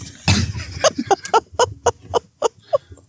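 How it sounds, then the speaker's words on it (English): A person gives one harsh cough, followed by a string of short, rhythmic throaty bursts, close to the microphone in a quiet room. "I actually have to cough now."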